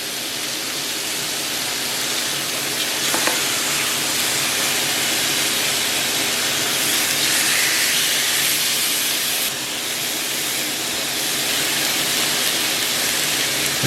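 Cabbage steams in a pan with a loud, continuous hiss that holds steady throughout, close up and without talk.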